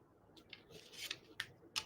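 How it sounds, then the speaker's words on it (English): Sharp scissors snip through designer series paper in a few quick, quiet crisp cuts, close up and alone, with soft rustling between the snips. "Hopefully these are my sharp scissors"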